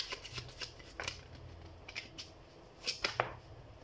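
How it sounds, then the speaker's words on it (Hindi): A deck of tarot cards shuffled by hand, soft papery riffles and light snaps in irregular bursts, faint and close, with a cluster of crisper flicks near the end, no talking. "तो सबसे पहले हम कार्ड शफल कर लेते हैं।"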